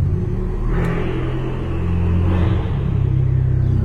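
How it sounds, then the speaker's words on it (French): A car engine rumbles loudly nearby, and a faint turbo whoosh winds down over the steady low idle. "on entend la redescente du turbo, c'est pas mal du tout"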